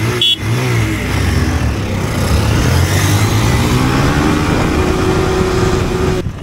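An R15 V4 and a Pulsar 220F BS3 accelerate hard in first gear during a drag race, their loud engines rising in pitch and holding a steady roar close by.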